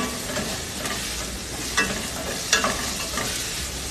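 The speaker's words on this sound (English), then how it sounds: "my chunky style tomatoes. And we're going to give this a nice mix." Chunky-style tomatoes are stirred in a frying pan for a vegetable biryani, with a constant loud sizzle and a couple of sharper scrapes of the spoon against the pan, no voices.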